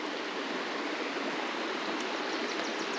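Fast water of a coastal Oregon stream rushing over rocks, a steady close hiss of flowing water with no pauses and no talking.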